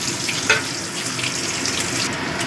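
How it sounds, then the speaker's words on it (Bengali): Eggs frying in a pan for mutton biryani give a steady, close, broadband hiss with small crackles and one brief sharp tick early on, no voices. "ডিমটা এবার ভেজে নেব।"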